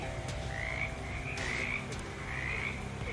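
Frogs croaking in the video game Shadows Over Loathing: a steady run of loud, rasping croaks that repeat in close, overlapping pulses, with no talk.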